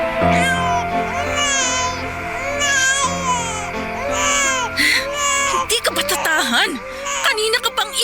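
A baby cries loudly and continuously in a home, with wailing rising and falling, while a voice talks over it and music plays in the background.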